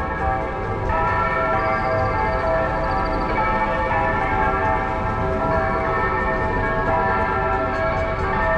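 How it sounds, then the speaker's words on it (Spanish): Cathedral church bells ring out over an open civic plaza in El Salvador, a steady dense peal blended into a continuous outdoor wash of city ambience, sustained without a break and with no speech. "las campanas de la catedral."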